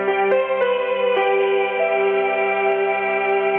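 A Benston folding digital piano sounds a dual-voice layered chord through its built-in speaker, a few note attacks in the first second then a long sustained tone, steady and fairly loud with no talking.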